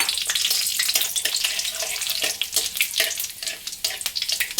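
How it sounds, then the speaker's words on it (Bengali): Panch phoron, bay leaf and dried chillies hit hot oil, crackling and spitting loudly in quick bursts, a close dense sizzle with no talk. "আমি এবার এখানে ফোড়নের জন্য নিয়েছি 5 ফোড়ন, তেজপাতা আর শুকনো লঙ্কা, এগুলো দিয়ে দিলাম।"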